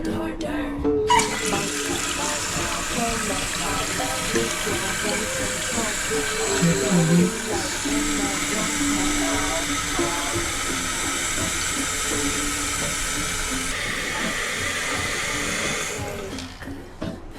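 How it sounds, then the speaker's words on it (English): Water rushes steadily into a newly installed toilet after its supply valve is opened, a continuous hiss and flow under a brief bit of speech that carries on for over fifteen seconds. "turn on the water supply"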